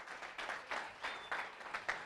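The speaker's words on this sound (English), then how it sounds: "Big round of applause for Mr. Robert Massey." Applause from a sparse crowd at a bench press powerlifting championship, faint and somewhat distant, with clustered bursts of claps in an uneven rhythm.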